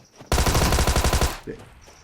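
Rapid burst of automatic fire from a Thompson submachine gun in the mobile shooter PUBG Mobile, about a second of loud, evenly spaced shots, followed by a brief softer thump and quiet.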